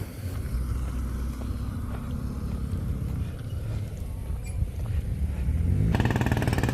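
A golf cart on a Grand Turk Island street passes close by with a rough, rattly motor, its low rumble steady under outdoor ambience and swelling louder near the end.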